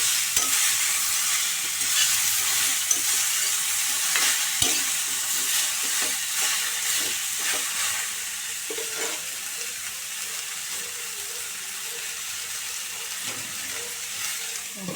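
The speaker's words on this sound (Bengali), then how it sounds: "এগুলো একটু নেড়ে চেড়ে ভাজবো ভাতা দিয়ে" Drumstick stems (moringa) being stirred and fried in a pan, with a steady sizzle throughout and repeated scraping clicks of a spoon, close and fairly quiet, no talking.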